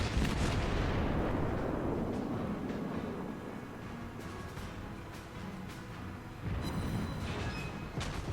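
The cruiser Aoba fires armor-piercing shells in the World of Warships game, opening with a loud booming salvo that rolls and decays into a rumbling wash, followed by another burst of blasts near the end.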